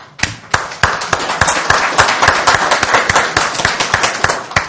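A conference keynote audience claps in a steady burst of applause, a crowd of sharp, overlapping hand claps that rises quickly and holds at a lively level.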